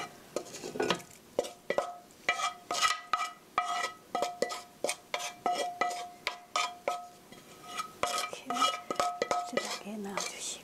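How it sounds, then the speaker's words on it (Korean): Sautéed vegetables being stirred into beaten egg for a cabbage omelette: a utensil clinks and scrapes rhythmically against a bowl, close and clear, in repeated quick strokes with short pauses. "고루 섞어주시고요. 살살 저어서 잘 섞이도록 해주시고요."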